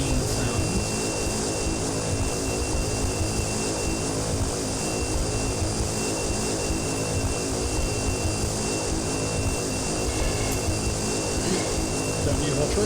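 Steady, loud propeller drone of a Carenado Grand Caravan turboprop in X-Plane 11, a dense continuous roar with a faint whine, unbroken throughout and no talk over it.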